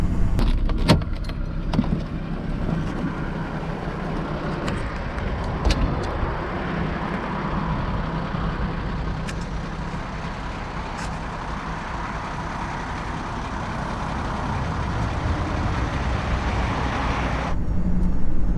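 A car engine cruises at 50 mph around 3,000 revs, a steady low drone and road rumble from inside the cabin with some rattles and clicks early on, continuous until a brief change near the end.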